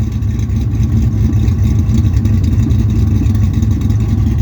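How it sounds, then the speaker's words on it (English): A Ford 5.8 engine fitted with aftermarket cams, idling with a loud, lumpy, choppy low rumble close by on a cold day, with slight rises in revs. "listen to those cams sound"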